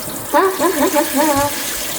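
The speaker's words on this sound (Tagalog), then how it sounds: "maghuhugas na ko sa ilog" Washing in a river, with a steady rush of running water throughout and a person's brief wavering vocal sounds over it.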